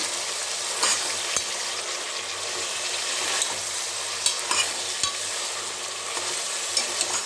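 Tomato and green chilli being stirred into vegetable pulav in a pan, a steady sizzle of frying under the scrape and clack of a spoon on metal, with no talking.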